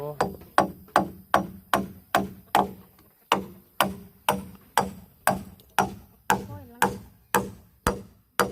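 Nails being driven into wood with a hammer, a steady series of about fifteen sharp, loud, close strikes at an even rhythm with a brief pause midway, each blow ringing and decaying quickly.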